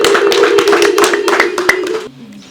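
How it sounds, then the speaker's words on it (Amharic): A church congregation claps in a quick burst of many hands with a sustained sung or shouted voice over it, then the clapping stops and softer voices remain. "እስቲ አንድ ጊዜ እልል በሉ፣ አጨብጭቡ እንዴ!"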